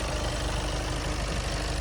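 A 2018 Volkswagen Passat B8 2.0 TDI 190 hp diesel engine idles with a loud, steady low rumble, close by and unchanging for the whole short stretch, with no voices.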